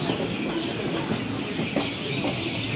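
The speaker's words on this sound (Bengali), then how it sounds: "এখন আমাদের ট্রেন ব্যান্ডেল ঢুকছে, ব্যান্ডেল জাংশন, এরপরই হাওড়া।" Steady rumbling train noise with faint rhythmic clatter of wheels, a continuous broad roar as the carriage rolls slowly into Bandel Junction station.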